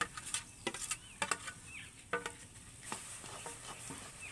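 Palm fruit pulp sizzles in a hot wok, a soft crackling hiss with scattered pops and scraping stir strokes, faint and close with no voices.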